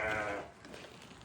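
Sheep and lambs at a livestock market let out one clear, loud bleat close by, fading into low background murmur.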